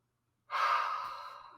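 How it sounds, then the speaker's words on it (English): A single breathy yawn-like exhale during a voice warmup, close and soft, lasting about a second after a silent start. "Yawn, yawn, yawn."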